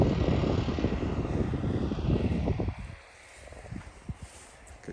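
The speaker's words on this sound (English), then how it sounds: "All that noise is a farmer down there cutting the hedge with his tractor." A farmer's tractor cutting a hedge in the countryside gives a loud, rough mechanical roar that fades after about three seconds, leaving quieter rustling and scattered knocks.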